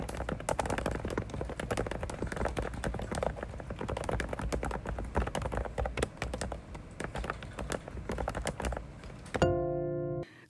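Fast, steady typing on a Thinkway low-noise computer keyboard, a dense run of soft, muffled keystrokes heard close by, ending with a short tonal sound.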